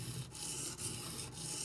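A Benchmade Griptilian knife with a D2 steel blade is stroked very lightly across a sharpening surface, giving soft, steady rubbing and scraping passes broken by a few brief pauses, quiet and close, with no voices.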